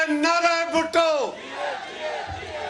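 A political rally crowd chants slogans for Bhutto, many voices shouting in unison in a few rhythmic bursts that then fade into a looser crowd roar.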